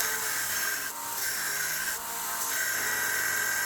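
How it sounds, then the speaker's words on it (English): A grinder shapes a forged drop point hunting knife blade, giving a steady, bright, high-pitched grinding whine that runs continuously for a few seconds with two brief dips in pressure. "Which brings us here to my fabulous grinder."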